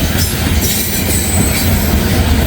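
Loud, close train noise fills the clip, a continuous rumbling roar of railcars rolling along the track with some rattling clatter.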